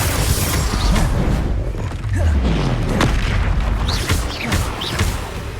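A Bombarda blasting spell goes off in Hogwarts Legacy, with several heavy booms and crashing bursts in quick succession over a dense, loud rumble of game effects.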